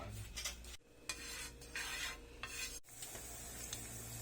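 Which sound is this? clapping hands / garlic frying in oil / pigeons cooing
garlic frying in oil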